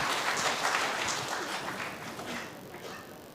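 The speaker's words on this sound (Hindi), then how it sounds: "तालियां बजाइए भी" Awards-event audience clapping after an art professor is praised on stage, a fairly faint, even patter of hands lasting a few seconds with little talk.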